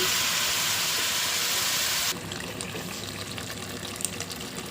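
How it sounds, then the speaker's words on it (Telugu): Mutton boils in a pot with a loud steaming hiss, which drops abruptly to a quieter, gentle bubbling simmer with faint crackles as the water evaporates. "ఈ మటన్లో నుంచి వాటర్ అంతా బాగా ఇంకిపోయే వరకు బాగా ఉడకనివ్వాలి"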